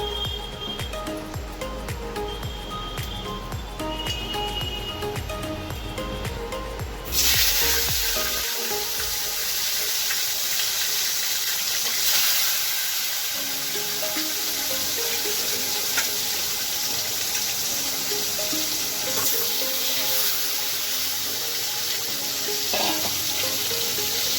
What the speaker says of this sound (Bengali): আর এই আজকে তেল কই বানাবে মা, ওই জন্য কই মাছ নিয়ে এসছে